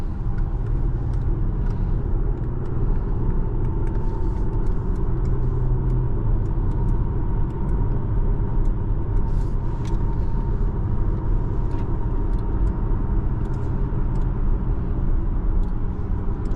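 A 2023 Audi SQ5 Premium accelerating on an evening drive, heard from inside the cabin as a steady low engine drone and road rumble that holds at an even level throughout, with no talking.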